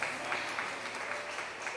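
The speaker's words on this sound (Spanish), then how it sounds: "Vamos a darle un aplauso al Señor" Faint church congregation applause, a distant, even patter of clapping hands continuing briefly.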